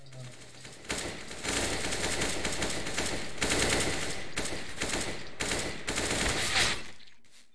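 Rapid automatic gunfire from CS:GO on an aim map, sustained bursts that run nearly continuously with brief pauses between them, loud and close.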